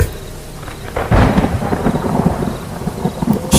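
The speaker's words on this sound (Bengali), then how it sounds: "সেই সঙ্গে ভেসে আসছে মৃদু বাজ পড়ার শব্দ। ক্রমশ বেড়ে উঠছে বাজের দাপট।" Thunder rumbles over steady rain as a sound effect in a Bengali audio drama, a quiet wash before a loud roll builds and surges, then sustained rumbling with rain beneath, no voices.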